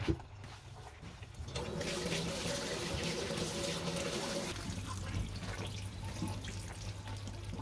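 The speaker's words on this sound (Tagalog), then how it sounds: "Huhugasan muna natin, strain natin, tapos hugasan." Running tap water pours steadily over soaked japchae glass noodles being rinsed in a sink, a continuous close splashing rush with slight shifts as the noodles are moved, no talking.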